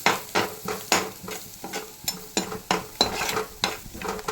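Goat brain frying in a pan with salt, chilli powder and turmeric while a spoon stirs it, making rhythmic scraping strokes over a constant sizzle and an occasional clink of metal, close up and with no speech.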